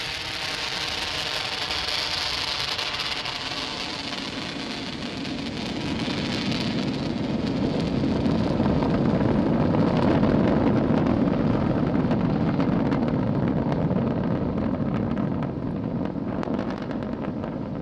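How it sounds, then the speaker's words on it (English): A Falcon 9 rocket with Merlin 1D engines lifts off from Launch Complex 39A at Kennedy on the IXPE X-ray telescope mission, making a steady, loud, broadband crackling roar that deepens and swells into a heavier low rumble midway, with no voices. "successful liftoff of the Falcon 9 from Launch Complex 39A"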